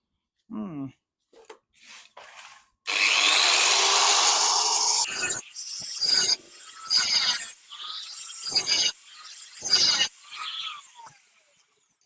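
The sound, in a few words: sawing slots into seized screw heads on a Mahindra Scorpio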